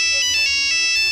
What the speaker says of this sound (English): So the next time you hear a familiar Nokia ringtone,